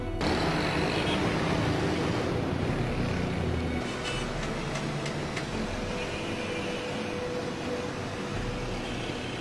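Steady, dense road traffic roar fills the scene, a continuous wash of engines and tyres from many passing vehicles without pause.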